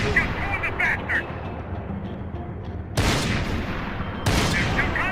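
Gunfire in the Max Payne 3 video game, with rapid bursts of shots over a dense battle din, two loud sharp blasts standing out, and game voices shouting beneath.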